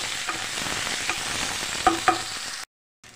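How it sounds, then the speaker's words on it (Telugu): Ginger garlic paste frying in a pan with a little kasuri methi, an even close hiss of sizzling with a few light spatula clinks, cutting off abruptly near the end. "కొంచెం అల్లం వెల్లుల్లి పేస్ట్ పచ్చివాసన పోయేదాకా ఫ్రై చేయండి."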